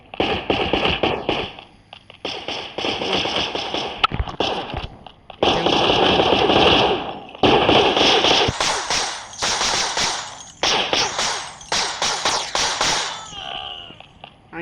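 Rapid bursts of video game gunfire in a police fight, loud and close, come in repeated rattling volleys separated by short pauses.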